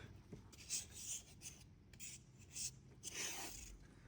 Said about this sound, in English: we're just going to razor blade every inch